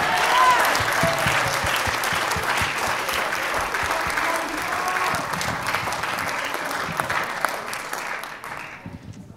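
Audience applause at an electronic music concert at a college fills the space with dense, sustained clapping that tapers off toward the end, with faint voices mixed in.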